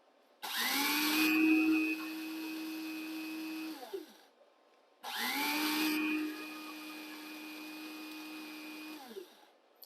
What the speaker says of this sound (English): So this is now just a spice grinder.